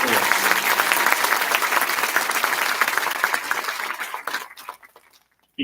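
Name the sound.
audience applause at a commissioning ceremony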